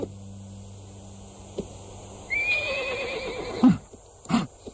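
A horse gives a high, drawn-out whinny that rises and trails off, preceded by faint background hum and followed by a couple of soft knocks or hoof thuds.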